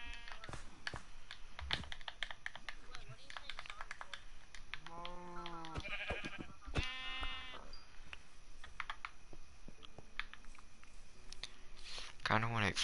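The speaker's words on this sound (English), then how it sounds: "Why is there just a rain of sheep on my property?" Minecraft sheep bleat in short wavering calls over a constant background hiss, mixed with rapid keyboard clicking and other game sounds.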